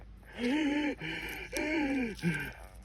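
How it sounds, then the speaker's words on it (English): Heavy, rasping breaths in and out repeat in a steady rhythm, close to the microphone, each breath voiced and strained. "every time I make a video, you can hear me breathe"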